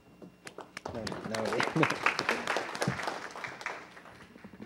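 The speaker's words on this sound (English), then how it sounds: "Please give him a round of applause." Applause at a city council meeting, building from scattered claps into a brief burst of clapping and then fading, with voices talking over it.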